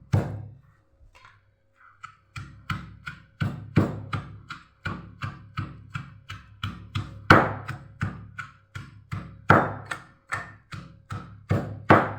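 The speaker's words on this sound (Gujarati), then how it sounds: "આની અંદર ખાંડણીની અંદર ખાંડવાનું છે" Pounding chutney ingredients such as ginger, tomato, cumin and salt in a stone mortar gives a steady series of dull thuds, about one per half-second, close and loud after a brief pause at the start.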